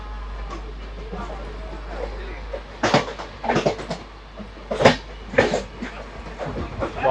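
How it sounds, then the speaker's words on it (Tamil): Rumbling of a train passing on the opposite track, with a series of rhythmic clanks and bursts as carriages pass close by, growing louder toward the end. "ஆப்போசிட்டில் வந்து ட்ரெயின் ஒன்று போயிட்டுருக்கு."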